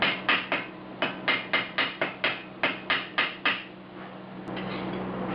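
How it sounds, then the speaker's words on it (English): A hammer bends sheet metal on a 1976 Mazda RX-5 in a steady run of about a dozen sharp, ringing blows, then stops, leaving a low hum. "And then finish it off with the hammer."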